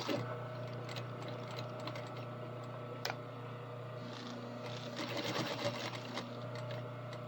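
A sewing machine stitches belt loops in short bursts, its steady mechanical hum and rapid rhythmic needle clatter continuing with a few sharper clicks, close up but quiet, with no talking.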